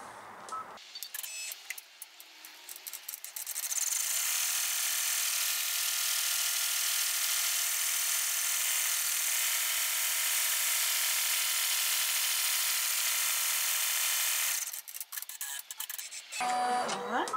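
Embroidery machine stitching a vinyl window wallet, a loud steady high-pitched mechanical whir running continuously for about eleven seconds, preceded and followed by softer handling clicks close by.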